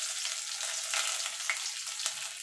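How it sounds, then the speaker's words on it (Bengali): Chopped garlic, about four cloves, frying in hot oil for a lentil dal tempering, a continuous close sizzle with small crackling pops and no voices. "দিয়ে রসুনটাকে একটুখানি ভাজা ভাজা করে নেব"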